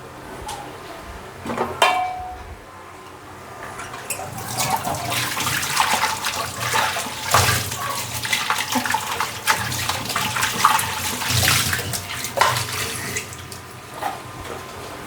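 A clay lid is washed under running tap water in a home kitchen. Close, splashing water streams and rises in bursts as the lid is handled, with a few sharp knocks at the start.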